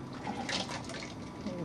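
Air bubbles rising through water in a windowfarm airlift tube fitted with a T-joint make a brief, continuous bubbling gurgle while someone speaks over it.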